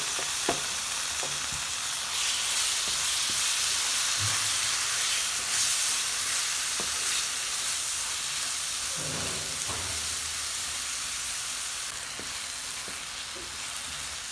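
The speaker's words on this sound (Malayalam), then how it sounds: "ഇതെല്ലാം ഒന്ന് വറുത്തെടുക്കണം കേട്ടോ" Chicken masala ingredients for a Mughalai chicken frying in a pan, giving a loud, constant close sizzle and hiss with occasional soft stirring knocks.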